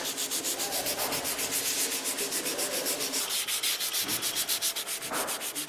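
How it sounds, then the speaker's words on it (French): Close, steady back-and-forth rubbing of fine sandpaper on a walnut gun stock, a rhythmic rasping stroke about every quarter second that continues throughout, with no voices. "Chaque crosse ensuite est poncée au plus fin, de façon à donner un grain un peu plus soyeux pour la crosse"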